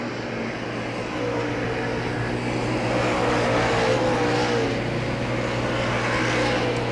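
Race cars roar around Hagerstown Speedway in the late laps of a race, a loud, continuous engine drone swelling slightly as the pack passes, with no speech heard.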